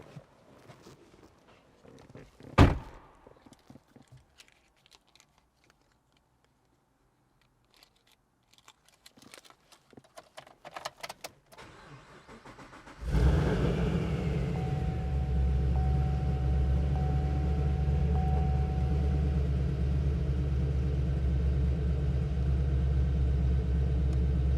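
A 2013 Chevrolet Camaro: a car door clunks shut, then soft shuffling and rustling follow before the engine cranks and catches with a burst. It settles into a steady, deep, rumbling idle close by.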